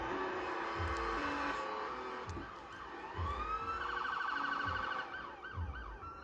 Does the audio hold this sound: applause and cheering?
no